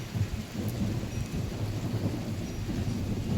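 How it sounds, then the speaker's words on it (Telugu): Thunder rumbles low and continuous through a summer rainstorm, with steady rain noise underneath, fairly loud and sustained with no voices. "పిడుగులు పడుతున్నాయి"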